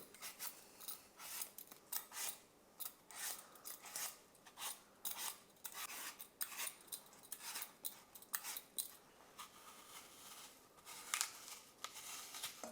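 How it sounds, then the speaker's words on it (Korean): A vegetable peeler strips the skin from an apple in short, repeated scraping strokes, close and fairly quiet, with brief pauses between passes and no talking. "우선은 필러를 이용해 가지고 사과 껍질을 벗겨 주도록 할게요"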